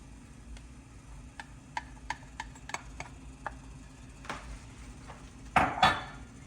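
A spoon stirring a roux and milk sauce in a pan for chicken cordon bleu, with scattered light clinks and ticks against the pan's metal side and a couple of louder scrapes near the end.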